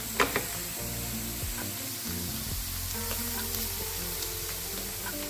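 Potatoes fry in a pan with a steady, soft hiss of sizzling oil, punctuated by a few faint pops and crackles, and no speech.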